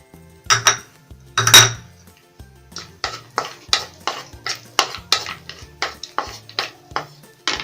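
Cardamom, cinnamon and cloves being tipped into butter in a pan, followed by a rapid series of sharp metallic scrapes and clanks of a spoon against the pan, loud and close, with no talk.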